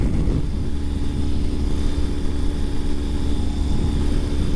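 A 2020 Ural Gear Up sidecar motorcycle drones steadily while riding in cold weather in Eaton, Ohio, its engine a continuous low rumble mixed with wind rush, with no talking.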